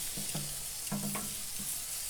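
Sauerkraut simmering in beer on a Weber Spirit gas grill, a faint steady bubbling hiss with a few soft low clunks, close but quiet.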